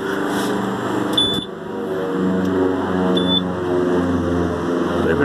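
A timing device used to set the magneto on a Pratt & Whitney R-985 Wasp Jr engine of a Beech 18 gives two short, high beeps about two seconds apart over a steady background hum.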